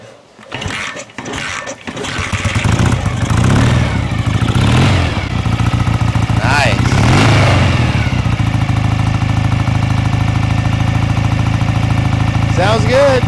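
A 1967 BSA Spitfire Mk III twin motorcycle cranks, coughs and fires, then its engine settles into a loud, close, steady run with a few throttle blips. One short spoken word is heard early on.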